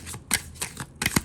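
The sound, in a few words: shuffling oracle cards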